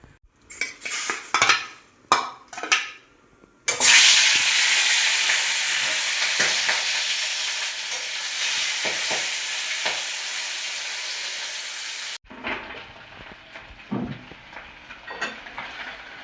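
Katla fish pieces go into hot oil with clattering utensil taps first, then a loud, close, sustained sizzle that fades a little before a sudden cut to quieter kitchen clinks.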